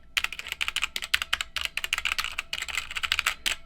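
Fast, steady typing on an E-YOOSO Z11 mechanical keyboard with red switches, close crisp key clacks in rapid bursts with short pauses.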